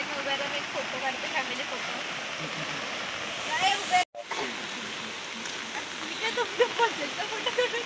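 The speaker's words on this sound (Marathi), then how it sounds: "नदीला पाणी फुल एकदम" A river in full monsoon flood in the Konkan roars nearby under heavy rain, a loud unbroken rush of churning water that briefly cuts out midway.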